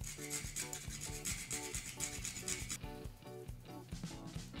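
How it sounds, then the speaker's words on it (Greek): Fresh nutmeg is rubbed over a grater for a potato gratin sauce, a soft continuous scraping that sits underneath loud rhythmic background music. "Και θα τρίψω και λίγο φρέσκο μοσχοκάριδο."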